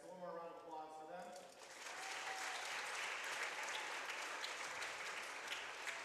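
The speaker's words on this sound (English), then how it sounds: "So one more round of applause for them." Applause at a youth basketball event honoring sixth grade boys: a voice speaks briefly first, then the crowd breaks into steady, fairly distant clapping that holds to the end.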